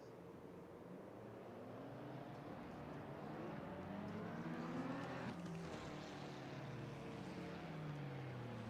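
Race car engines droning together on a formation lap in Assetto Corsa Competizione at Paul Ricard, a steady, dense roar of several cars that swells slightly midway and holds, with no talk over it.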